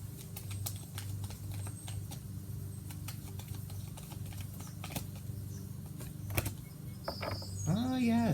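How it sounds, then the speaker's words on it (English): A deck of tarot cards is shuffled in a quiet room, a run of soft rapid clicks and riffles at close range, with a voice starting up at the end. "I'm going to shuffle 3 times and pull the top card"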